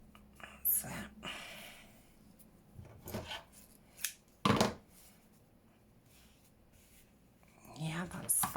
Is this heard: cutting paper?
yes